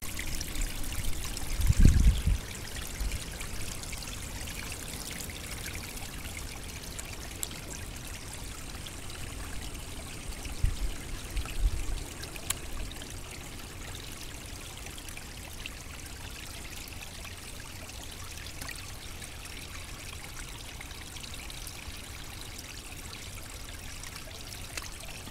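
Water flows in a woodland stream after heavy rain has cleared a blockage, a steady soft trickling and pouring wash throughout, with a couple of brief low thumps near the start and around the middle.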